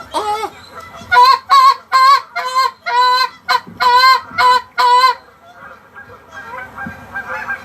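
A goose lets out a string of about nine loud, close, rhythmic honks and moans in quick succession, then falls quiet against a soft background.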